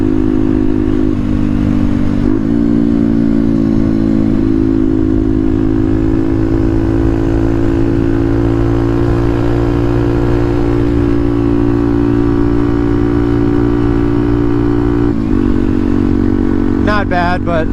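A Honda Grom or Benelli small motorcycle on stock tires ridden through sweeping corners, its engine humming loudly and steadily with brief pitch dips between throttle changes and a short rev near the end.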